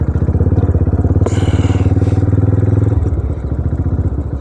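A motorbike on a rough, landslide-damaged mountain road near Thandiani, Abbottabad, descending slowly with a steady low chugging engine pulse close by, loud throughout, with a short rattling clatter partway through.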